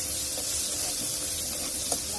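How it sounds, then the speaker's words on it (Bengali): Onions, green chillies and spices with salt fry in hot oil in a wok, giving a steady, close hiss of sizzling without any talk throughout the short stretch. "একটু ভেজে নিব"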